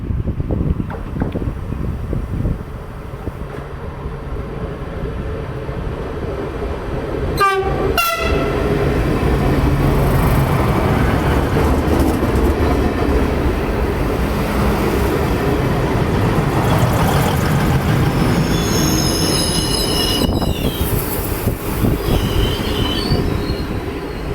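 A TCDD Nazilli passenger train passes close at Selçuk, İzmir, with a steady heavy rumble of wheels and cars throughout. Sharp clanks punctuate the run early on, and loud horn blasts sound near the end.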